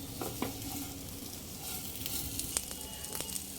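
Potatoes frying in ghee with black pepper, a soft, steady sizzle with light stirring scrapes and a few small clicks, close and fairly quiet.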